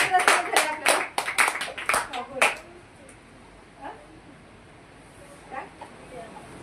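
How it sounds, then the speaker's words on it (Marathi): Children at a kids' club clapping for a classmate, a brief burst of rapid uneven claps for about two and a half seconds, then quiet room tone with a few faint sounds. "चला महालक्ष्मीसाठी एकदा टाळ्या वाजवा."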